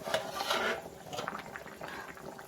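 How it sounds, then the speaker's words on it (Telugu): A metal lid clatters off a pot of bachelor-style fish curry, with a few sharp clinks of metal and a soft bubbling simmer underneath. "ఇప్పుడు మూత ఓపెన్ చేసుకొని కర్రీ ఎంతవరకు అయిందో చూసుకోవాలి."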